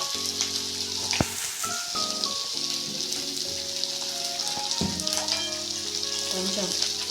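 Onions and ginger garlic paste frying in hot oil, a dense, steady sizzle that crackles throughout, with occasional stirring scrapes and tonal clatter from the pan, close and fairly loud.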